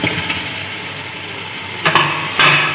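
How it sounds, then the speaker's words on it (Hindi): Potatoes and curry leaves dropped into a hot pan of oil with whole black pepper while cooking prawn pulao, a steady sizzle broken by two louder scraping, clattering bursts of stirring near the end. "उसके बाद मैं इसके अंदर ऐड कर रहा हूँ अपने पोटैटो"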